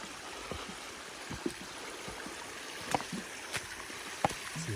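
A stream flows over bedrock, a faint, steady trickling wash with scattered soft splashes and knocks, heard alone without talk.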